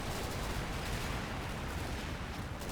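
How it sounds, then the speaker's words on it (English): Mark 19 automatic grenade launchers keep firing in the Combat Mission video game, a dense, continuous rumble of rapid thumps and blasts that is faint and distant and carries no talk. "Those are mostly Mark 19s, the good old automatic grenade launchers"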